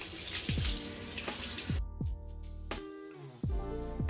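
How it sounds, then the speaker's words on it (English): Lukewarm water runs from a tap into a sink while someone washes their face, with a steady stream broken by splashes and drips as hands cup and splash the water. "in the morning, I just wash my face off with lukewarm water"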